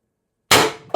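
A single sharp, loud shot from a Pistelle X-68 air pistol with a 12-gram CO2 cartridge and MCS threaded barrel, a sudden crack after silence followed by a brief second knock.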